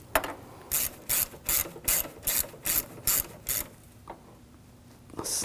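A ratchet tightens bolts on the thermostat housing of a 2007–2013 BMW 328i 3.0L, making eight evenly spaced, crisp bursts of clicking up close, followed by a few quieter handling sounds.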